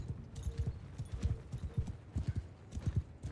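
Horse hooves clip-clopping in the video game Mount & Blade II: Bannerlord, a quick, steady gallop of thudding beats close by, with a faint whinny mixed in.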